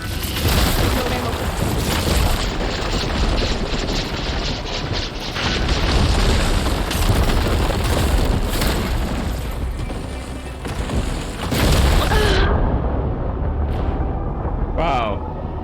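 Heavy booming blasts from ballista shots exploding in Horizon Forbidden West roll out in repeated loud waves under ongoing game noise, with a voice speaking briefly near the end.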